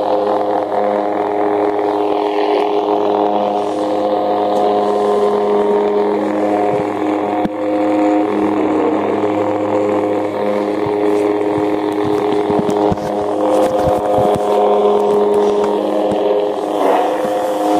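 A toy lightsaber hums steadily and loudly, its electronic drone swelling and shifting as it swings, with occasional sharp crackles, and no pauses across the stretch.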